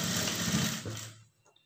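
Sewing machine running a second line of stitching along a folded lining blouse side seam, a steady whirring buzz that stops abruptly partway through, leaving near silence with a faint tap.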